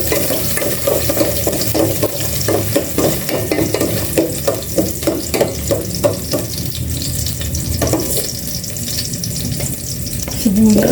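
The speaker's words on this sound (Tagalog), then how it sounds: "Igisa ko na po itong bawang." Garlic sautés in a pan for pork adobo in a home kitchen, sizzling loudly and close while a utensil scrapes and stirs in a steady rhythm, without talking.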